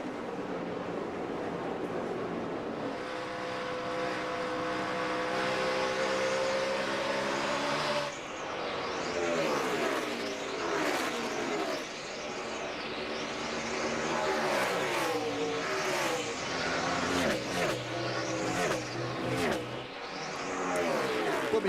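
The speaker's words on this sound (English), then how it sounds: "Put me behind the wheel of one of these race cars, Dale." NASCAR stock cars race at the 2012 AAA 400, their engines a continuous roar with repeated rising and falling passes as cars sweep by the microphone over about twenty seconds, loud and sustained, with no talk.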